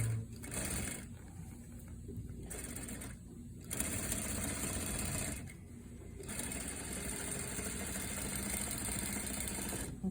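A sewing machine top-stitches a fly zipper in several runs of rapid, steady stitching, broken by short pauses between passes.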